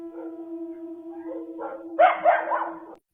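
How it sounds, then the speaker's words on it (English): Dogs barking and howling in a La Llorona ghost clip, with a long sustained howl first and then a louder burst of overlapping yips and barks near the end. "There is excessive barking and howling in this one from dogs"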